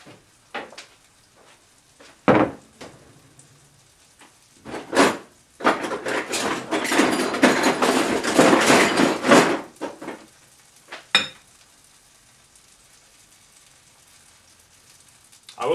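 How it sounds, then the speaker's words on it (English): Butter and a choc chip pancake sizzle in a pan, a loud crackling burst lasting a few seconds amid scattered knocks and clatters of the pan and utensils close by. "we're gonna put in more butter for our final pancake"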